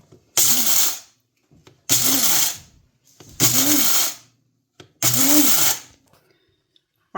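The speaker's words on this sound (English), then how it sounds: "we're going to put it in this little coffee grinder over here" A small electric coffee grinder whirs through Indian Malabar coffee beans in four short bursts of about a second each, separated by silent pauses, loud and close.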